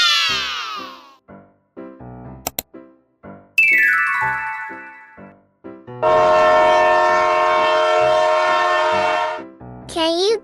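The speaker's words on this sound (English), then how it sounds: "This is a train." A train sounds a long, steady horn for roughly three seconds, loud and close, within a playful backdrop of repeating musical tones, a chime and rising sweeps.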